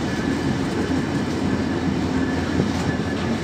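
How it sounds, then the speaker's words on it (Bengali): Steady rumble and rattle from inside the moving Sundarban Express passenger train in Bangladesh, a continuous low roar of wheels on track with faint clatter, heard close and evenly throughout. "এখন আমি ট্রেনের ভিতরে।"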